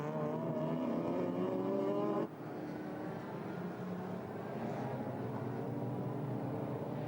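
GT3 and GT4 race cars at Hampton Downs race into the final corner, engines dropping sharply in pitch as they brake, with the tone cutting abruptly and settling into a lower, distant drone.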